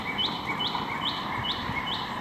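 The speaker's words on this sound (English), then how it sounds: "I don't know what bird that is, but it's beautiful." A songbird sings outdoors on a residential street in Montreal, repeating a clear rising chirp about every half second over a steady background of ambient outdoor noise.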